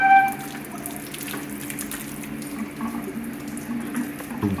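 Water and coolant pour out of a 1975 Chevrolet C10 truck being rebuilt, a steady splashing trickle running onto the ground with a low engine-like hum underneath.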